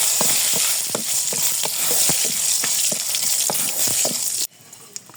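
Bay leaf and two torn dried red chillies fry in hot oil for a breakfast dish, a steady loud sizzle with soft stirring taps throughout, cutting off sharply near the end.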